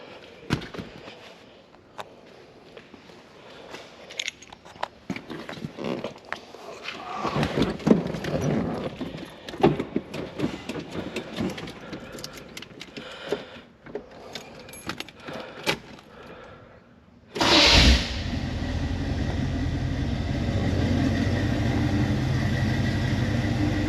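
A 1980 Chevrolet Camaro Z28 V8 cranks and fires up after a stretch of clattering handling noises, then settles into a steady, loud, rumbling idle that continues to the end.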